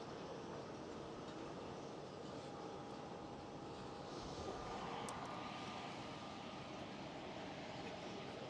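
An Emirates Airbus A380 coming in to land at Amsterdam Schiphol, a steady distant engine roar holding evenly throughout against a broad outdoor rumble, with no talk.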